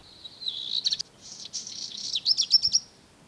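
A black redstart sings a high, scratchy warbling song with rapid trills and clicks, close and clear against a quiet background.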